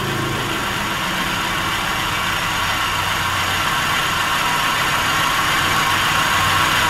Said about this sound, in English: I just plugged the old ignition lead back in and it seems to be running worse.